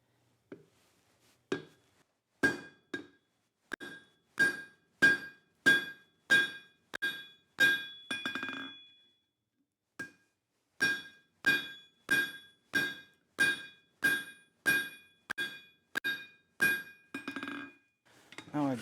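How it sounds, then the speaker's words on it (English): Hammer blows forging a hot steel bar over the horn of a round die into a flat hot chisel, a steady run of ringing metallic strikes in two bursts, loud and close with a brief pause between. "So I'll probably forge it down similar to this, but clean it up a little bit better to extend this bar out."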